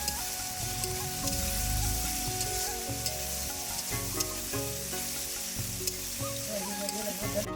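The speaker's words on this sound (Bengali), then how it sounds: "এর মধ্যে আদা রসুন বাটাটা দিয়ে ভালো করে কষিয়ে নেব।" Ginger garlic paste fries in a hot pan with a continuous loud sizzle, close by, broken by stirring scrapes and occasional crackles.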